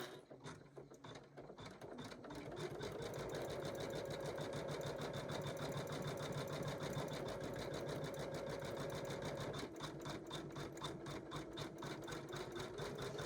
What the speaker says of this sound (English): Now I'm operating my machine at the slowest speed, about 400 stitches per minute.